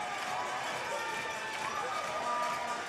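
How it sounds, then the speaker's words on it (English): Hockey arena crowd inside the Temple Garden Centre in Moose Jaw during a Warriors game against the Swift Current Legionnaires, a steady broad roar of cheering filling the whole span, with a voice faintly mixed in. "Listen to this crowd here inside the Temple Garden Center"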